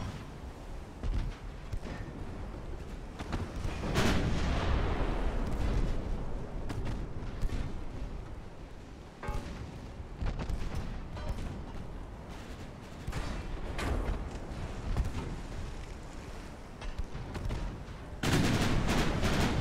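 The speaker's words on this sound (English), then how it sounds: "There's a big hit. Got an ammo detonation." Heavy naval gunfire in the Ultimate Admiral: Dreadnoughts battleship game at the Battle of the Falkland Islands, with dense repeated booming salvos and rumbling blasts, including a big ammo detonation, loud and continuous throughout with no talk.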